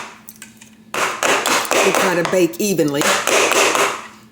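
A cake pan filled with box-mix batter is knocked against a kitchen counter, giving a few sharp hollow taps while a person talks over them.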